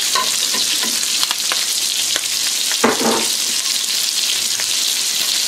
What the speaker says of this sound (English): So I'm going to put the Chinese mushrooms in.